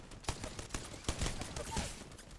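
Bursts of gunfire in a video-game firefight, several sharp reports scattered unevenly over a couple of seconds at moderate level, with no talk over them.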